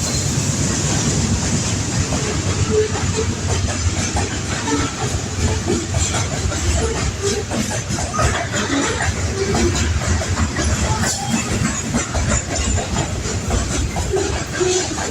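A grain train rolls past on the rails, a steady loud rumble with hiss and faint clickety-clack throughout, close by and continuous with no talking.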